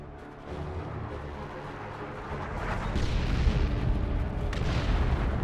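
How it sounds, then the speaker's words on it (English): An artillery barrage in a Warhammer 40,000 video game: a dense, continuous rumbling roar of distant shelling that swells louder halfway through, with scattered crackling bursts over the low boom. "There's some artillery barrage."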